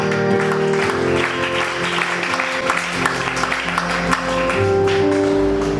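A congregation applauding during a prophet's sermon, steady continuous clapping through the whole stretch with a murmuring crowd and music underneath.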